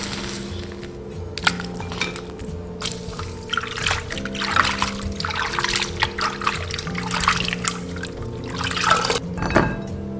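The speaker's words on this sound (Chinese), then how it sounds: "好了，关火，我们捞起来清洗干净。" Blanched chicken feet rinsed in water after boiling with ginger, scallion and cooking wine, giving steady trickling and splashing with occasional clinks and knocks against a bowl throughout, with no talking.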